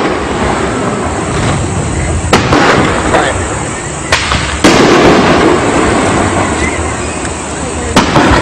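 Fireworks at a Fourth of July celebration in Northwest Ohio, a loud, continuous barrage of crackling bursts and sharp booms close by, with several heavier blasts standing out.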